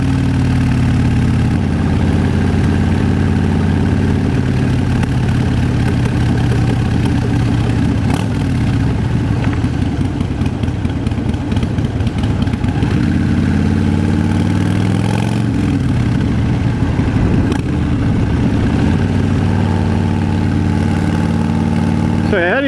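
A Harley-Davidson Fat Bob motorcycle engine rumbles steadily and loudly while riding on an unfamiliar road with gravel, a continuous deep throb with slight rises and falls in revs throughout.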